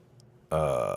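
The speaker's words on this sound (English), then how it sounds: "I burped a little" A single short, loud, rough burp follows half a second of quiet, with no other sound around it.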